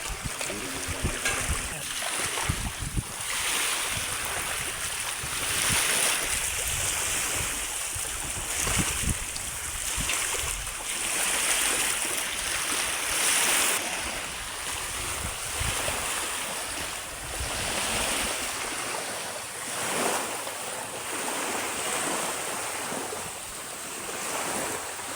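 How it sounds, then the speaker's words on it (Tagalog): Calm sea waves wash gently and continuously along a shore under steady wind noise, with a few faint voices and a boat-like rumble in the background. "Kalmado ang dagat oh"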